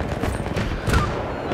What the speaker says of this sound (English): You can hear those shots going off.